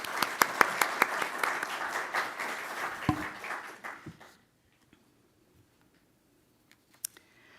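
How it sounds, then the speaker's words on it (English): An audience at a congregational town hall meeting applauds election candidates with a fairly quiet, steady round of clapping that thins out and stops about halfway through, leaving near silence with a couple of faint knocks. "Can we give these candidates another round of applause?"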